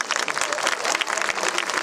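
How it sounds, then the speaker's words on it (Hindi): Audience applause at a Hindi comic poetry gathering (hasya kavi sammelan), dense and lively clapping from a crowd, fairly loud and even for the whole short stretch with no talking. "तालियां ढंग से बजाओ,"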